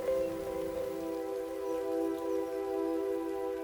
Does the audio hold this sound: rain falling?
yes